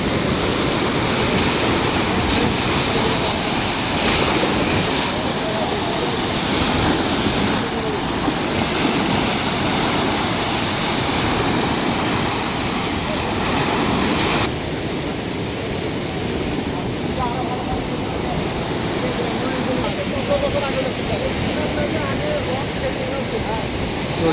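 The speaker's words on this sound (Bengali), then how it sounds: "এইখানে পাশ থেকে পানিগুলো আসতেছে" Loud, constant roar of water rushing through the Mohanpur rubber dam in Dinajpur, a dense unbroken wash of noise filling the whole stretch, close by.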